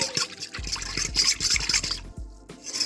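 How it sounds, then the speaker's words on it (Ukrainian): A spoon stirs yeast into warm milk close by, with light watery sloshing and soft clinks against the bowl in an uneven rhythm. "І добре перемішуємо, щоб у теплому молоці дрожжі повністю розтанули."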